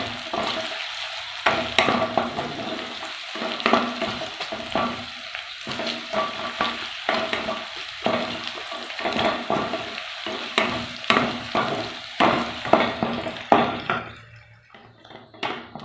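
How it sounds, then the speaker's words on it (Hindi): Onions sizzle and fry in a pan as a spoon stirs them, scraping against the metal in a steady, close, repeated rhythm for several seconds before the sizzle fades near the end. "प्याज को ब्राउन कर लेना है अच्छी तरह से।"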